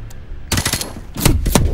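Rapid bursts of automatic gunfire in the Modern Warfare Remastered video game, loud and close, in two clusters separated by a short gap.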